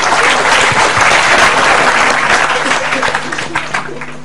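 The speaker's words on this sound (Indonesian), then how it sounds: "Oke, tepuk tangan Sabrang." Audience applause for Sabrang at a Cak Nun gathering, a dense sustained clapping from a large crowd that fades slightly toward the end, with some background voices.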